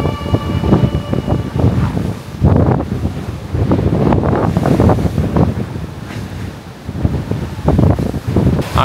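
Large sea waves crash and roll in rapid succession at Pattaya in Thailand during December, with strong wind buffeting the microphone throughout, loud and close with no voices.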